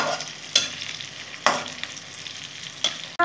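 A spoon stirs green chillies into eggplant frying in fish oil, with a few distinct scraping strokes over a soft, steady sizzle, close and without talk.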